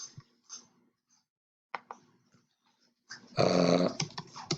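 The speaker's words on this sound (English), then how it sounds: "my dog's eating something she's not supposed to" A dog chews on a metal screw at close range. After scattered quiet ticks and rustles, a loud burst of rough gnawing, crunching and growly breathing comes in near the end.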